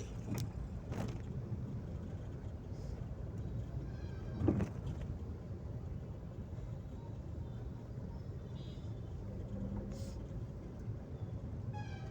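City road traffic under the LRT at Cubao, a steady low rumble of engines with occasional brief horn-like or squealing tones, faint and distant, with soft voices in the background.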